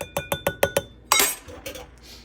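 Cacao being whisked into a strained lungwort tea, heard as a quick run of six sharp, evenly spaced glassy clinks followed by a louder clatter and softer scraping, close by.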